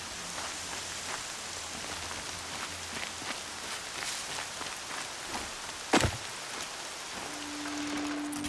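Steady rainfall patters across a quiet scene in Horizon Zero Dawn, a broad even hiss of drops with a sharp knock near the end and a low hum creeping in.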